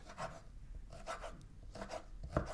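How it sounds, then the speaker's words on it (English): A knife chops food into slivers on a cutting board, giving a handful of soft, quick cuts in an uneven rhythm, close and fairly quiet. "I'm gonna chunk this into eighths and then slice those slivers"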